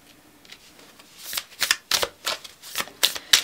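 Tarot cards are shuffled in a quick run of crisp riffling bursts, close and fairly loud, with no talking.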